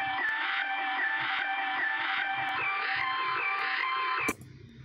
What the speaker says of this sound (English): had some vocal chops that I got basically just from chopping up the vocal samples